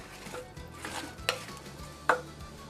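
Stirring black pepper into a stew in a pot, a soft scraping swirl with two sharp clinks of a spoon against the pot rim.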